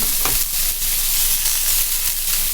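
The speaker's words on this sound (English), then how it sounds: "You just want to sear it till you get enough color on it." Beef sears in a hot pan, giving a loud, steady hissing sizzle with a couple of brief knocks, close and continuous with no talk.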